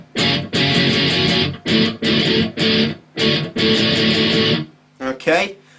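Distorted electric guitar chugs through the first part of a song's outro in bursts of chopped, palm-muted chords with short gaps, loud and close, ending in a brief slide.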